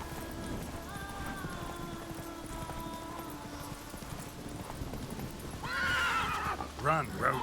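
Roach, the horse in The Witcher 3, whinnies loudly near the end after a stretch of steady galloping hoofbeats, with music and game ambience running underneath.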